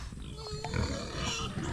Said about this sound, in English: There go our 3 little pigs.